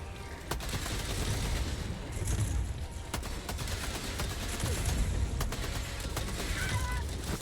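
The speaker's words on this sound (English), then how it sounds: "They're friendly firing each other." Gunfire in Helldivers 2 as players shoot at each other in friendly fire, a scatter of sharp cracks and shots ringing out over a dense, noisy battle background.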